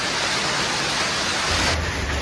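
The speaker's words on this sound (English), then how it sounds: "an unexpected hailstorm hit the area, bringing a sudden torrent of ice, strong winds, and a drastic drop in temperature" A hailstorm with strong winds in Grafton, New South Wales, a dense, continuous roar of ice pelting surfaces, loud and unbroken, with a deeper gust rising near the end.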